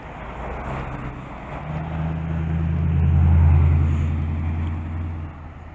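Cars driving along a flooded road, engine and tyre noise swelling as a vehicle approaches and passes close by, then fading, steady and alone without speech.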